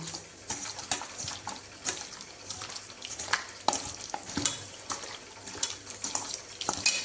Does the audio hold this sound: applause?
no